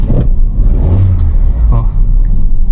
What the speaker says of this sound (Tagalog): Ang bilis ng response nung RPM dito.